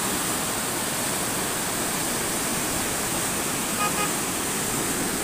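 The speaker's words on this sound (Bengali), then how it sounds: "অনেক গর্জন শুনতে পাচ্ছেন নিশ্চয়ই আপনারাও।" Roar of floodwater pouring through the open regulator gates of the Muhuri project at Sonagazi, a dense, constant rushing wall of sound, with a faint, brief tonal blip partway through.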